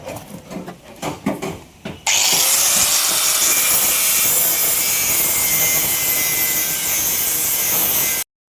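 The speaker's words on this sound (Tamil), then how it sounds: "போடுங்க, கிரைண்டிங் போடுங்க." An angle grinder bites into the front floor panel of a Maruti WagonR during body repair, starting after a couple of seconds of scattered knocks and then screaming loudly and continuously right up close.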